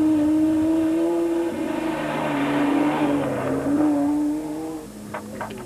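A Dakar 2004 rally car engine revs hard and shifts through gears, its loud, continuous tone rising and falling as it accelerates, close by and alone.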